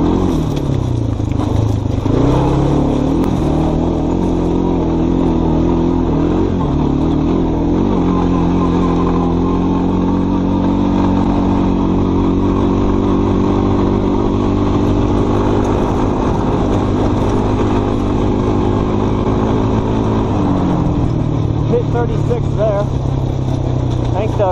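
A Kawasaki Brute Force ATV engine with gummed-up carburetors from old gas runs loud and close, holding a rough, steady drone with small shifts in revs and a drop near the end.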